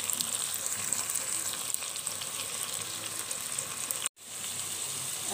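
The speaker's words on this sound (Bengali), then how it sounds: "এখন পেঁয়াজ আর এই চিংড়ি মাছটা একটু হালকা ভেজে নিব" Chopped onion and small shrimp fry lightly in a pan, giving a steady, close hiss of sizzling oil with a brief cut near the end.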